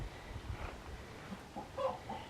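Chickens cluck softly in a backyard chicken yard with some scattered low calls, then a slightly louder burst near the end, all set against a muffled outdoor background.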